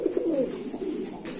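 Pigeons cooing at a pigeon farm, a continuous low warbling coo close by, with a brief rustle near the end.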